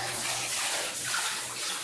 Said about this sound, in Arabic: لا دي ميه